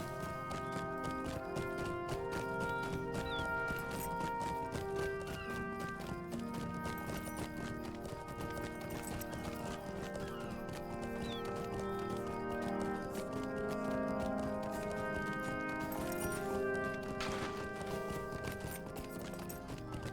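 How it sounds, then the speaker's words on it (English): A horse in the LOTRO video game walks through a city of Gondor, its hooves clip-clopping in a steady rhythm under continuous game music, fairly faint. "Yep, our horse is just walking through the city."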